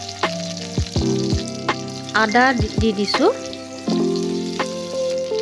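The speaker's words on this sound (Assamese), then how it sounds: "অকণমান সময় এয়া জিৰা আৰু নহৰু আদাখিনি মই অকণমান সময় ভাজি লওঁ।" Oil sizzles and crackles steadily in a pan as whole cumin, garlic and ginger fry, with metallic clinks of a spoon and a person speaking over the cooking.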